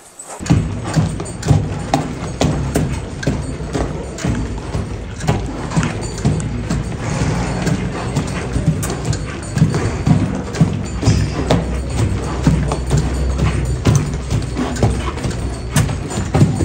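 Hooves of a Pura Raza Española stallion clip-clopping as it dances at a horse stud in Ciudad Guzmán, Jalisco, a dense, continuous run of thuds and taps with crowd or background noise throughout.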